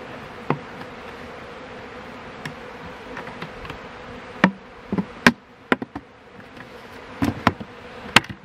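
Bees buzz steadily around a hive during sugar syrup feeding, a close, faint hum broken by sharp clicks and light knocks from handling the feeder, with no voices.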